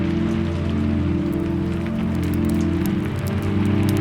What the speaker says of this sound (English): The rain slows to a breath.